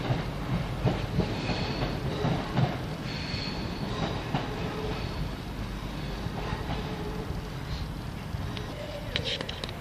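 A train passing through Crewe station, a rumbling run with rhythmic wheel clatter and occasional squeals and clicks, fairly faint and continuous, with possible muffled voices in the background.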